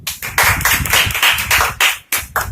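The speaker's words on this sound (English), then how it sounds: "have a great round of applause for Rohit." A short burst of enthusiastic clapping from a small group, dense and uneven, loud and close.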